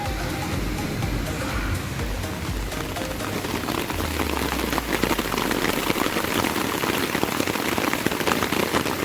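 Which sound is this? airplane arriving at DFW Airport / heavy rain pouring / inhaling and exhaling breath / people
heavy rain pouring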